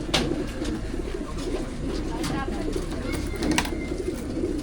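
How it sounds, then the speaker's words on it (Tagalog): Racing pigeons in a basket before a training toss, repeated soft cooing and rustling close by, with occasional wing flutters and distant voices in the background. "Kaya pala umiyak yung mga ibon eh."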